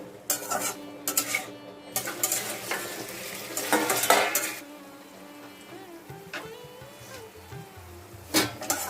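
Potatoes with chili and ginger paste sauté in oil in a pan, a bubbling sizzle broken by repeated scrapes and clatters of a spatula stirring against the pot, busier at first then quieter.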